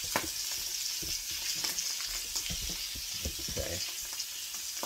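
Food fries in a pan beneath a splatter screen on a stovetop, a continuous crackling sizzle with scattered sharp pops, fairly quiet and steady; a single brief word is spoken.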